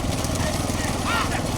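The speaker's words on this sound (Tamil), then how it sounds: "மாடு உள்ள ஜாட்டுக்கோ, மாடு வருது." Racing bullocks in a rural bullock-cart race, their hooves drumming rapidly on the track as they approach amid loud crowd shouting.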